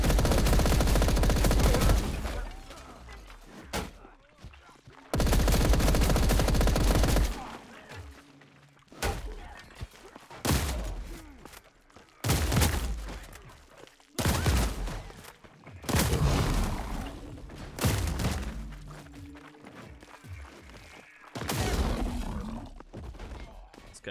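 Video game gunfire in repeated bursts of rapid shots with thuds, separated by brief gaps, some faint talk between them.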